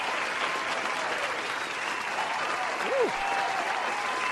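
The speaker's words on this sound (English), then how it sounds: "So let's give her a round of applause." An audience claps steadily in a dense wash of applause at moderate volume, with a brief whoop rising out of the crowd near the middle.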